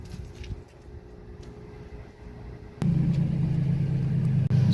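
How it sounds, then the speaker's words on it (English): A truck engine is switched on partway through. After a quiet stretch, a steady low idle hum starts suddenly and stays close and even to the end. "I need to turn my truck on to make that work."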